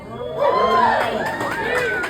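A concert audience at a singer-songwriter's live show cheers and whoops loudly, with overlapping shouts from a crowd rising quickly and sustained for a couple of seconds.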